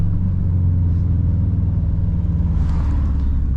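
A heavily modified turbo car engine rumbles at low revs in a steady throbbing drone from inside the cabin on a canyon drive, loud and continuous with a slight rise toward the end.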